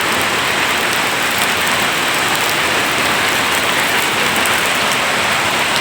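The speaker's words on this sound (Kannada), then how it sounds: "ಮಳೆ ಶುರು ಆಗೇ ಬಿಡ್ತು ಮಾತಾಡ್ತಾ." Heavy rain pours down in large, fat drops during a sudden downpour, a dense, steady hiss that fills the whole scene loudly and continuously with no voices.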